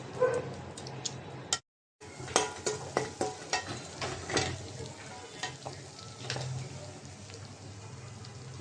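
Raw cumin paste with ginger and garlic paste frying in a pan for a beef and potato curry: constant close sizzling with irregular pops and scrapes, broken by a brief silent dropout near the start.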